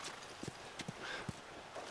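A horse walks in The Last of Us video game, with a handful of quiet, spaced hoof clops on hard ground set against a low background hush.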